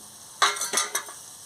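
A metal lid lifted off a cooking pot of Bengali greens bati chochchori, giving a short burst of three or four close clanks and scrapes over a faint background hiss, with no talking.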